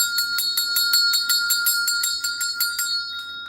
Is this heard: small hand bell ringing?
yes